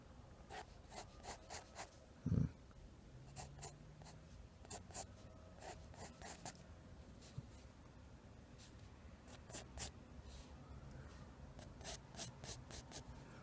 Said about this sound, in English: I'm just going to give this some darker lines.